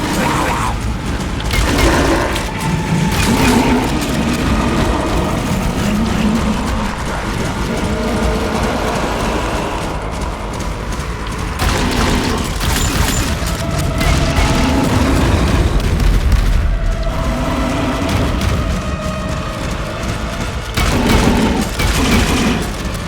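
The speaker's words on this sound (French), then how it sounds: "je crois qu'il me reste encore des munitions de fusil à pompe" Repeated shotgun blasts and booming gunfire in the action video game Dying Light The Beast, loud and dense over a rumbling game soundtrack, with bursts recurring throughout.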